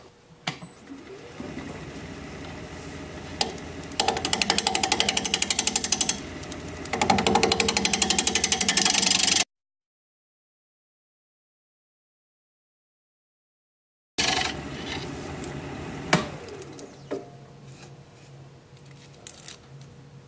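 A wood lathe spins at about 700 RPM while a half-inch bowl gouge cuts a live-edge paper birch blank, giving a loud, steady rasping whir for several seconds, then silence, then the cutting noise resumes.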